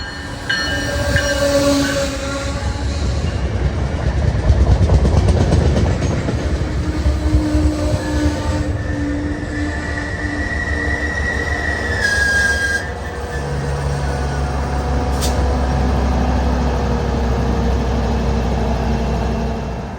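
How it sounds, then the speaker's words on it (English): MBTA commuter rail train led by a cab car and hauled by an HSP-46 locomotive, heading north towards Boston through Mansfield, Massachusetts, passes close by with a loud sustained rumble and rolling wheel noise, tonal engine hum and brief squealing. "a cab car-led MBTA commuter rail heading north towards Boston"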